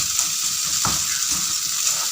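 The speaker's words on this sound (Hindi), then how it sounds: "1 से 2 मिनट इसको दही के साथ पकाएंगे और फिर हम इसे उतार लेंगे।" Fish bhujia cooks with yogurt in a pan, giving a steady soft sizzle with a faint occasional stirring scrape underneath.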